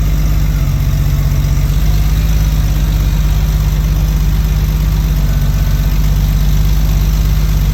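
A Porsche 993 idles with an upgraded, more aggressive aftermarket exhaust and cat bypass plugs fitted, giving a steady, loud low rumble throughout with no talking.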